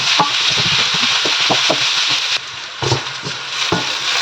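Onions browning in hot oil alongside aubergine and chickpeas, a steady loud sizzle with repeated scrapes of a spatula stirring through the pan, the hiss dropping briefly partway before resuming.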